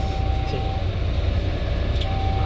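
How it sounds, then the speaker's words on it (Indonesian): A continuous low rumble of a train passing nearby in Indonesia, with a steady drone, a faint high tone and occasional squeaks, mixed with a murmur of traffic. "kereta api lewat sepertinya"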